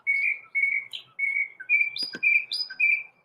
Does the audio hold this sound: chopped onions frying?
no